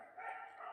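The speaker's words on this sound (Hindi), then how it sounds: "मेरे घर के बाहर इतने कुत्ते क्यों भौंक रहे" Dogs barking outside a house in the game Garten of Banban 2, heard as a short, fairly faint burst of barking.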